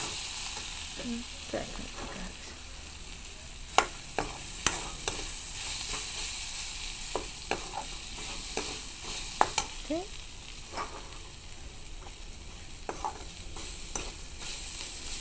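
Food sizzles steadily in a pan for the whole stretch, with sharp clinks and scrapes of stirring scattered through it and no talking.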